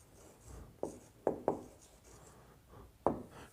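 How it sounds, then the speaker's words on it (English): Chalk or a marker taps and scrapes across a board in a few short, sharp strokes with quiet gaps between them, close and fairly soft, with no talking. "let me write"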